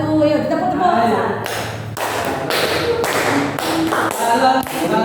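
Children clapping hands in a group activity at a community outreach event in Pasuruan, a series of sharp claps and taps under an adult voice calling and counting.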